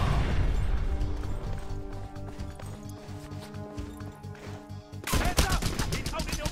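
Rocket launchers fire in a video game, a dense run of loud blasts and explosions layered with gunfire, ending in a sharp burst of impacts near the close.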